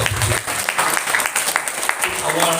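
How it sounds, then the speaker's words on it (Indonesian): Audience applause at an Islamic lecture during a Ramadan school program at a high school, sustained dense clapping filling the whole moment with no clear pauses. "Tepuk tangan dulu coba"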